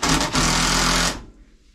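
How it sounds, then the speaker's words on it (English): A powered driver runs a screw down into plywood on a mobile home bathroom floor repair, a loud, steady whirring burst of about a second that cuts off abruptly to near quiet. "He just screwed one down in the top side of it."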